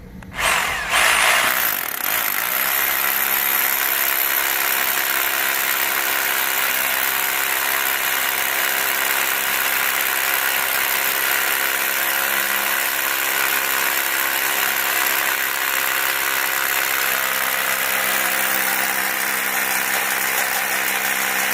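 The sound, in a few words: drilling a hole for a square steel pipe column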